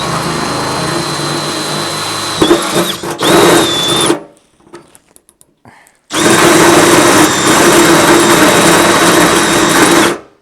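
A loud power drill, hammer action off, whines steadily at high speed during repair of a crash-damaged Toyota Hilux, cuts out for a couple of seconds, then spins back up and runs again before stopping.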